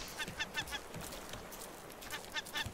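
Repeated honking, goose-like bird calls from the annoying stone-throwing bird in the survival video game Raft, heard in short bursts at a moderate distance over steady background ambience.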